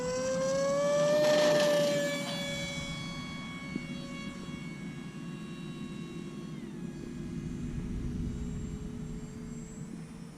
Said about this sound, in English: She's a fun little plane, great trainer plane.